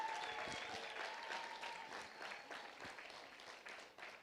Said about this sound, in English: So let's put our hands together and welcome Sylvia Muchuli.